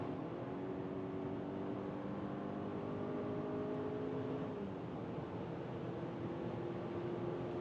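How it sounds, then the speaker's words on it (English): Inside a BMW X3 accelerating past 130 km/h, a steady engine drone rises in pitch over several seconds, then drops and settles, all under a constant wash of road and wind noise. "Here now at 130 kilometers an hour, let's accelerate even further."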